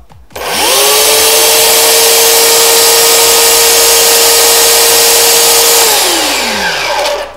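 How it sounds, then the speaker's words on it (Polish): An electric chainsaw powered from an ALLPOWERS R2500 portable power station whines up loudly, holds a steady high-pitched motor drone for about five seconds, then spins down. "Teraz, proszę Państwa, piła łańcuchowa"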